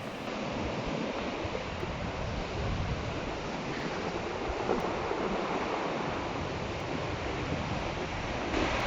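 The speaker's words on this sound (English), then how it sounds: "It's quite windy as you cross them." Strong, steady wind roars across the Storms River mouth in South Africa, with heavy gusting buffet on the microphone and no voices throughout.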